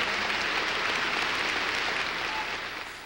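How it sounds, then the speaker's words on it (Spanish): Archival recording of a large crowd giving Stalin an ovation: dense, sustained applause from many hands, loud and even, thinning slightly toward the end, with no voices standing out. "las ovaciones a Stalin eran tan largas porque nadie se atrevía a ser el primero en dejar de aplaudir"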